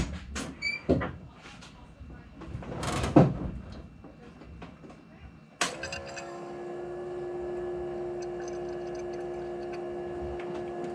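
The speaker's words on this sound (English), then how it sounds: "Time to hit the fuel pump again and see what kind of level we get." An electric fuel pump on a Fox Body Mustang restomod fills the carburetor, starting with a sharp click and settling into a steady whirring hum with faint ticking. Clunks and brief talk come before it.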